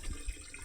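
Water runs steadily into a container being filled while collecting water downstairs during a supply outage, a close, continuous splashing rush with no talk.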